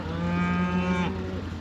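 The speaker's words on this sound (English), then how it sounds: "They're just cows." A single long, loud cow moo close by on a farm property, a steady low drawn-out call that ends abruptly.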